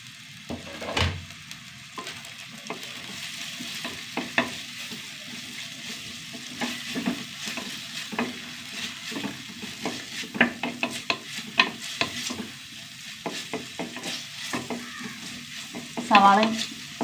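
Chopped onion, green chilli, ginger and garlic sautéing in a pan, a soft continuous sizzle broken by scattered scrapes and clicks of stirring, with a louder clatter near the end and no talking.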